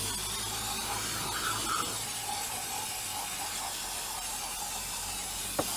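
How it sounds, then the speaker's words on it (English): Steady broadband hiss of an aerosol spray can spraying continuously onto a Ford 4.6 engine, close and fairly loud, with a sharp click near the end. "Spray it down real good."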